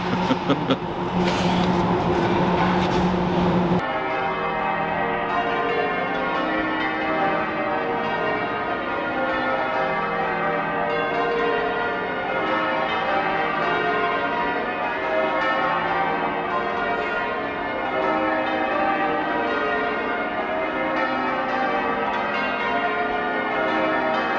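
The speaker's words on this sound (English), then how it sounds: "So the bells are ringing because it's Christmas Day" London church bells ring for Christmas Day on and on in a dense, overlapping peal, loud and sustained, with a brief burst of brighter clanging at the start.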